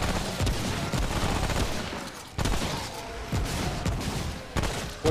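Continuous video game gunfire, a dense rattling barrage of rapid shots running throughout with brief breaks, loud and close with no talk over it.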